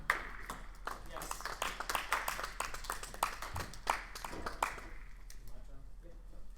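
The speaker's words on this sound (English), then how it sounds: "Let's hear a round of applause for everyone." An improv show audience gives a round of applause, with quiet, scattered clapping from a small crowd mixed with voices and chatter, fading out toward the end.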